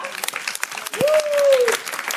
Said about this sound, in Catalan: Un aplaudiment ben fort, eh, pels quatre.